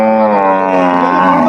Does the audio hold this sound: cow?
yes